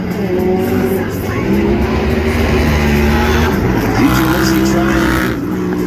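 Side-by-side vehicles race around a speedway figure-eight track, engines roaring loud and close in a sustained droning whine that rises and falls as they pass, with crowd noise underneath.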